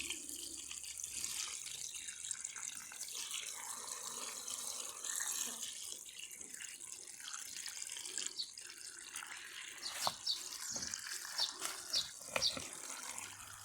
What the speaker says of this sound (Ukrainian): Далі нам треба залити це все водичкою. Заливаємо повне відро.